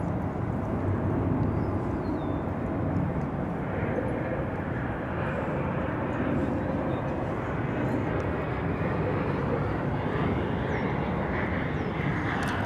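A small aircraft takes off at DFW Airport, its engine a steady, moderately distant drone under faint background murmur, holding level throughout.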